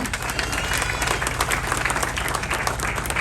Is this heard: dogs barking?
no